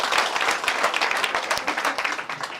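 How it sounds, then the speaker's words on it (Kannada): A crowd at a prize draw for household goods such as a mixer grinder bursts into loud, steady applause that holds for a few seconds, with dense hand claps close by. "ಜೋರಾದ ಚಪ್ಪಾಳೆ ಬರಲಿ ಅವರಿಗೆ"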